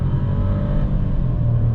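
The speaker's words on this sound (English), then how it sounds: "hold the brake, floor the gas, and let it go" A 2022 VW Taigo's engine roars hard and steady during a launch from standstill in sport mode, a dense low rumble climbing under full throttle, close and loud with no talking.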